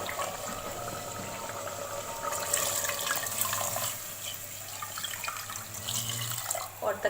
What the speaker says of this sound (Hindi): अब मैं इसमें डाल दूँगी बहुत सारा पानी